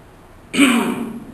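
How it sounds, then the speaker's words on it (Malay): A single short throat clearing at a religious lecture in a surau. It is a brief, close, rasping burst after a quiet moment. "Berdehem tu ada tak?"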